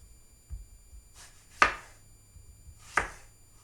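A knife slices firm, large peaches on a board in a quiet kitchen, with two sharp cuts and a softer tap, spaced apart and close.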